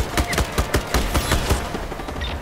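Rapid automatic gunfire from Just Cause 3, a steady burst of loud, evenly spaced shots rattling on for a couple of seconds with no voices.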